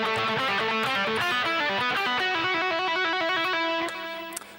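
Distorted electric guitar plays an opening lick, a fast run of slides, hammer-ons and open-string pull-offs in steady rapid notes, loud and close with no voices, fading as the last note rings out.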